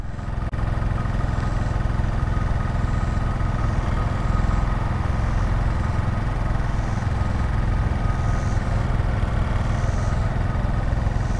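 A Honda Monkey mini motorcycle's small engine runs at a steady, close, throbbing idle-to-low throttle as a new rider gives it some gas, with a continuous low rumble and no talk.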